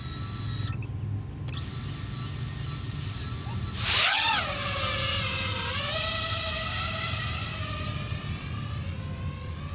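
A drone's motors hum steadily, then surge at about four seconds into a loud, rising, warbling buzz as it lifts off and settles into a sustained, wavering whine.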